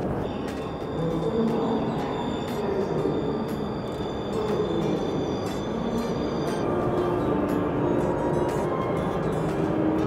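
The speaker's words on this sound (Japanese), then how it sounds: "この電車ははやぶさ号新函館北斗行きです。" A Hayabusa shinkansen bound for Shin-Hakodate-Hokuto pulls into a station, a loud continuous rolling rumble with wheel and brake squeals and high clicking, sustained for about ten seconds.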